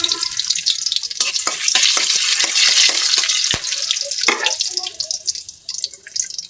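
Onions sizzle loudly in hot oil with dried chili, cardamom, bay leaf and cloves for beef khichuri, with a spoon scraping and clinking against the pan now and then, close by.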